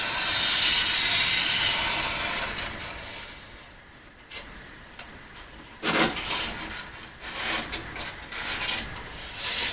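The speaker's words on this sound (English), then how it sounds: "I'm going to trace it out with a Sharpie" A Sharpie marker traces a deck outline on a sheet of pine wood for a boat build, giving a steady close hissing rub that shifts into louder, scratchier strokes partway through, with no talking.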